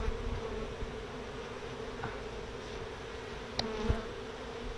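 Honeybees at an open beehive give a steady close buzzing drone during a group beekeeping lesson, with a few brief clicks and knocks from handling the hive frames.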